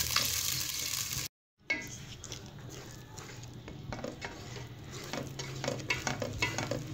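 Makhandi halwa is stirred steadily in milk in a pan over a low flame, giving a continuous soft scraping and bubbling texture with a short silent gap near the start, and no one speaking.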